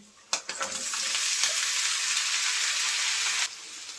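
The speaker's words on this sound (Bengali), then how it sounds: "এখন দিয়ে দেব আলু এবং পেঁয়াজ কলি" Potato and onion stalks dropped into a hot pan: a couple of sharp clatters, then a loud, steady, close sizzle of frying that stops abruptly after about three seconds.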